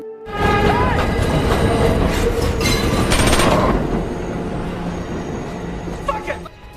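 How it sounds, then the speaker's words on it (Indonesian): A loud, steady rumble of a passing train with rattling and metallic clatter, fading slightly toward the end. "kereta api yang sedang melintas"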